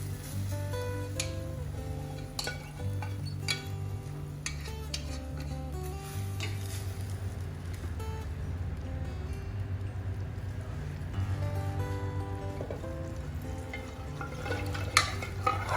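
Boiled mutton and its stock are stirred in a tempering pot for Sri Lankan mutton curry, with faint, intermittent scraping and clinking of a spoon against the pot over a quiet sizzle and a low steady hum.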